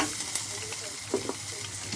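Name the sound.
onions frying in a pan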